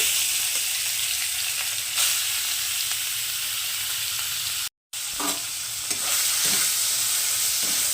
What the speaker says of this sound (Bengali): এবার চিংড়ি মাছগুলোকে আমি হালকা একটু ভেজে নেব